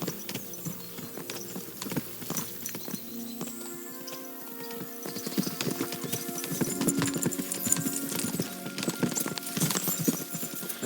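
Horse hooves clip-clop in a quick trotting rhythm, with jingling tack and a brief whinny, growing louder and more busy toward the end, from the video game Kingdom Come: Deliverance II.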